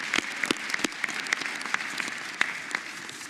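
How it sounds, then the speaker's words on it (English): Officials and guests at a city swearing-in ceremony clap together in a hall, a brisk crowd applause with several sharp, close individual claps standing out above the steady patter. "I'm going to suggest we applaud each other."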